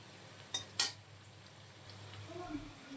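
Carrots are stirred in a little oil in a pan, a couple of sharp clinks from a utensil against the pan over a faint, steady sizzle, no talking.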